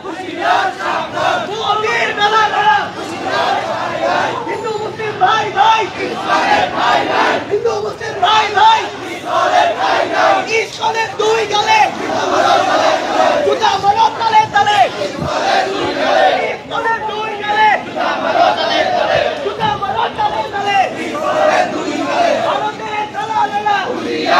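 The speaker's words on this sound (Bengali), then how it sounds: "ইসকন নিয়ে আসলে তারা কিন্তু নানা স্লোগান দিচ্ছেন" A large crowd at a late-night protest against ISKCON at Dhaka University chants slogans in loud, continuous unison. The rhythmic voices rise and fall steadily without a break, close and dense throughout.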